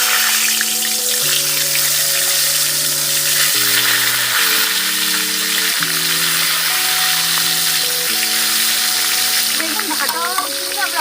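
Eggplant slices sizzle and crackle in hot oil in a wok, a continuous loud frying hiss with melodic background music playing alongside.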